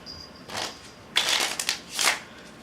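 Several quick bursts of riffling and snapping playing cards, irregular shuffles and cuts close by, with short pauses between them.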